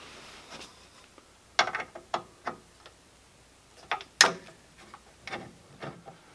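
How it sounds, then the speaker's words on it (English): Metal screws on the front apron of a Stranger Things pinball machine give sharp, irregular clicks and ratcheting ticks while being unscrewed, close and crisp, with short gaps between bursts. "now what's left are these front screws, and then your apron will come off"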